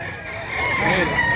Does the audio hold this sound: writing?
no